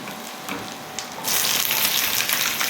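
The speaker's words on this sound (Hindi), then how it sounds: "और फ़ौरन से अब मैं अपनी सारी सब्जियां इसके अंदर डाल दूंगी।" Vegetables tipped into a hot pan with garlic and green chilies for a chicken stir fry burst into a loud, steady sizzle after a quiet moment of faint oil crackle, the hiss filling the kitchen close up.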